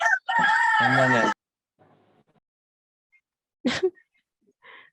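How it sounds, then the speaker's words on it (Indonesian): A rooster crows loudly and close by during an online meeting call, one long rising-and-falling call, followed by faint clucks and a short squawk amid quiet. "Ada suara ayam, siapa itu?"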